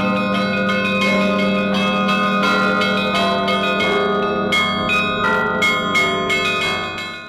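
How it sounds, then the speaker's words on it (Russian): Large Russian church bells ring loud and close in a rich, sustained peal, with repeated strikes layering into a long, humming resonance and no voices. "так и у каждого колокола свое звучание"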